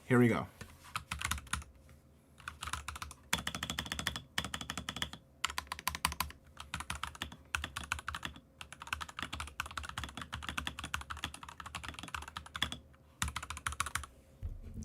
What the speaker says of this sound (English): do a nice keyboard sound test for you guys so you guys can hear the keyboard